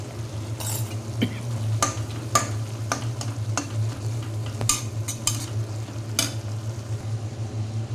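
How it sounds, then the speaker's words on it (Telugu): A radish curry spiced with garlic, chili powder and coriander powder fries in a pan, with close sizzling broken by repeated scraping stirs and occasional clinks of a utensil, and no one speaks. "ఇలా అప్పుడప్పుడు కొంచెము కలుపుతూ ఉండాలండి"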